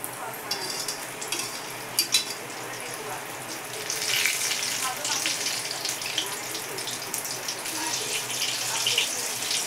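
Ridge gourd bhaji fritters deep frying in hot oil, a steady bubbling sizzle that grows denser and louder midway and continues without pause.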